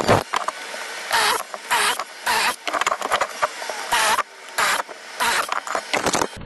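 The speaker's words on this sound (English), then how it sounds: "Drill out the holes." Several bursts of a power drill biting into wood, each a few tenths of a second to half a second long, separated by brief pauses.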